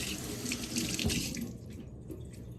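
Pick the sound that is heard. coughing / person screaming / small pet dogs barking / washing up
washing up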